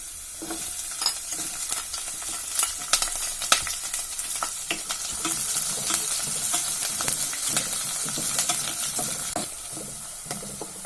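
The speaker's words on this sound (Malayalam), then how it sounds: "ഇനി ഇതിലോട്ട് ഇഞ്ചിയും പച്ചമുളകും അരിഞ്ഞു വെച്ചിരിക്കുന്നത് ഇട്ട് കൊടുക്കാം" Chopped ginger and green chillies hit hot oil with browned garlic for a potato pickle, giving a steady loud sizzle with scraping stirs and small crackles throughout.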